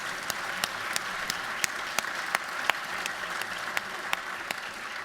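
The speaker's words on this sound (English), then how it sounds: "That deserves a round of applause." Applause in a Georgia House of Representatives chamber session, a steady wash of many hands with sharper individual claps standing out at a regular pace, moderately distant and sustained without any voices.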